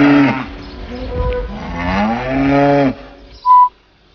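A cow on a green farm pasture gives one long, loud, close moo lasting nearly three seconds, followed by a short whistle-like tone.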